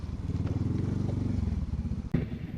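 A motorcycle engine chugs with a steady rapid putter close by on a trip out for food, ending with a sharp clunk.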